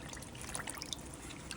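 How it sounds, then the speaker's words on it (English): Water running into a kitchen sink to soak collard greens makes a soft, continuous trickling and splashing, faint and steady throughout with no voices. "run a sink full of water, put the greens in them"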